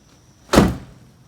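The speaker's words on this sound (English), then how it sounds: "Slam your door shut." A single sharp slam of a VW Bus driver's door, a short heavy thud that decays quickly in a quiet setting.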